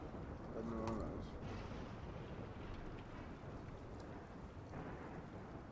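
Steady rain hisses with low rumbling thunder in the Rimworld video game, a continuous dense wash at low volume, with a brief faint voice early on.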